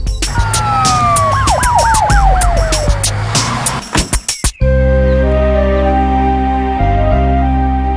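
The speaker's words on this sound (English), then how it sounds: "Let me call for an ambulance to take him to the hospital." A wailing ambulance siren sweeps up and down loudly at close range over a steady engine hum, then cuts off after a few seconds into a low idling drone with no talk.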